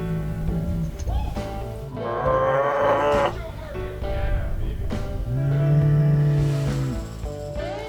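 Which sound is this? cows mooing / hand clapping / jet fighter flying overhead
cows mooing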